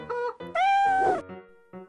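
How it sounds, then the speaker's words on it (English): A cartoon cat meows several times, with short meows around one long, drawn-out, rising cry in the middle, loud and close with no talking. "Cat. 猫咪。"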